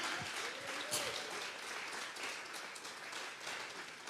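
A church congregation applauding during a service, a soft, steady wash of many hands clapping at a distance for a few seconds, with faint voices underneath.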